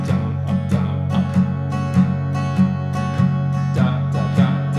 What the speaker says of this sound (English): Okay, and in a swing feel, it would sound like this.